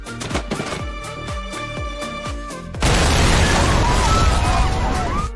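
An explosive package blows up: a loud, sustained blast roars in suddenly after rhythmic thumping, filling the space with a heavy rumbling burst that lingers.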